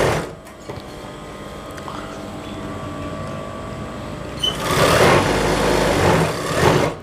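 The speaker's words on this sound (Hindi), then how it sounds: "दूसरी सिलाई में इसमें थोड़ा खींच के लगाएंगे, जॉइंट आराम से मिले" Sewing machine running a second line of stitches along a churidar pajami seam, a steady mechanical whir that grows louder and busier toward the end, heard close up without speech.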